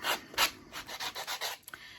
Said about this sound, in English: when I'm sanding it